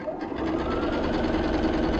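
A sewing machine stitching a quilt block for a koala design, its needle hammering in a fast, steady mechanical rhythm that runs continuously at close range.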